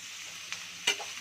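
Sliced onions fry in a pan with a steady close sizzle, broken by two quick stirring scrapes.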